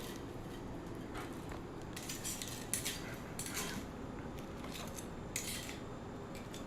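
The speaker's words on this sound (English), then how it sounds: "You can hear how crispy they've gotten since they've been in the oven." Crispy oven-baked food handled on a tray, giving a steady run of faint crunchy crackles and scraping clicks with a few sharper clinks, close by and with no voice.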